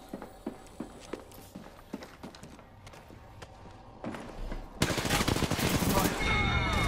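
Apex Legends gunfire in a firefight: rapid sharp shots and clicks in uneven bursts, then a dense, loud stretch of sustained fire and explosive noise, with some faint voice chatter mixed in.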